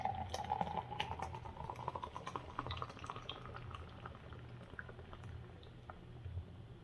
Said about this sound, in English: But this thing you pour it in the glass